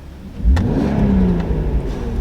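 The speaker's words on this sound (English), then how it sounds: "Just go over the window so you can hear the revs again." A Volkswagen Golf Mk4 R32 engine revs up hard from inside the car with the window down, a loud rising growl that climbs and then holds a steady throaty drone.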